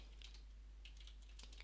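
Quiet clicks of a computer keyboard come in short clusters as a word is typed, soft and close over a faint steady hum.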